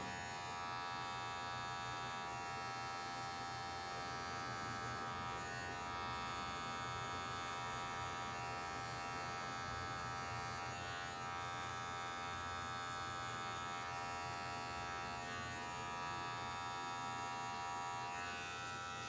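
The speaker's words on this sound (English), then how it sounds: "I'm gonna slightly close my clipper to about halfway and only use the corner" Electric hair clipper buzzing steadily and close while blending a bald fade, a continuous motor whine with harmonic hum and slight variations as the blade works through hair, no talking.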